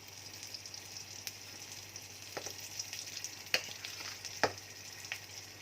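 A quiet, steady sizzle of boiled taro greens frying in a pan, with a few sharp scrapes and clacks as they are stirred.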